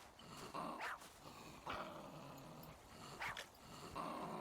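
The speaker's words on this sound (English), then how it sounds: "Short-eared dog." A short-eared dog growls softly in a wild forest setting, low rumbling growls coming in faint bursts with small yips between them, quiet and fairly close with no talking.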